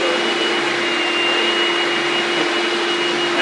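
A Shop-Vac vacuum fitted with a power head and Kenmore brush roller runs steadily on carpet, a loud continuous whine and rushing airflow with a faint high tone, no pauses throughout.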